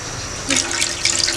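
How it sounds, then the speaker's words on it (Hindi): Water poured from a cup into tamarind pulp in a cooking pot for sweet-sour chutney, a short splashing pour that swells midway, close and fairly loud. "मैं 1 प्याली ही पानी ऐड कर रही हूँ"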